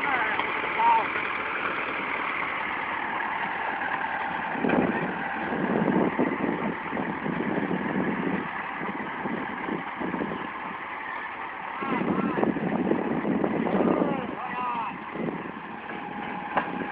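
A tractor engine idles steadily with a mid-range hum while it is being greased at a machinery shop in Acopiara, with voices talking over the running motor.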